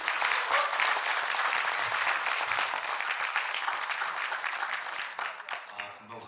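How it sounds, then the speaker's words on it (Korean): Audience applause at a Korean political party launch ceremony for the K Political Innovation Alliance, steady dense clapping from a crowd filling the whole stretch, tapering slightly at the end. "박수로 환영하겠습니다."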